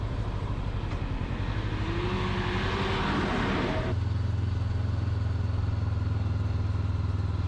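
A car chugs along a narrow country lane in Herefordshire's Wye Valley, its engine a steady, close drone with road rumble; partway through, the engine note abruptly shifts to a lower, stronger hum.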